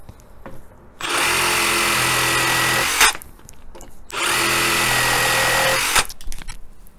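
Makita DJR187Z cordless reciprocating saw running in two loud sustained bursts of about two seconds each, a steady high motor whine with brief quieter pauses and clatter between them.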